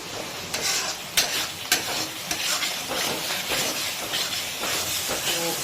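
Cauliflower, potato and paneer curry sizzles hard over a high gas flame in a Bengali vegetarian dish, with a constant frying hiss broken by sharp spoon scrapes and stirring clatter, close up with no talking.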